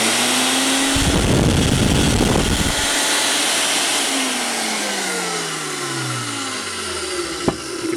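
A Greenlee 640 4000 lb cable puller tugger motor runs with a steady mid-pitched mechanical hum, surging louder in a brief burst near the start, then settling into a continuous drone with a sharp click near the end.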